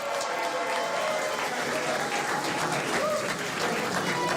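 Sustained applause from a large crowd, steady and dense clapping throughout with a faint murmur of voices underneath.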